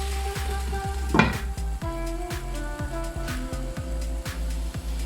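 Spicy Sri Lankan-style mutton liver stirs and sizzles in a pan, with a steady bed of frying hiss, repeated utensil scrapes and a brief louder clatter near the start.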